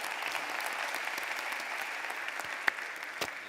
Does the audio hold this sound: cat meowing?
no